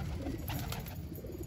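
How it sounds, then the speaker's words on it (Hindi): A pigeon that has just landed coos softly in a few low, rolling calls, faint and close, without talk. "ए मोटू परेशान कर रहा है कबूतरी को"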